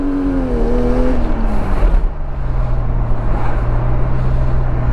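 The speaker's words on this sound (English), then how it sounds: "I just want to hear the turbo spool and, you know, gate" A turbocharged car pulls away in peak hour traffic, its engine note climbing then settling into a steady low drone, with a rising whistle-like tone over the hum and no one talking.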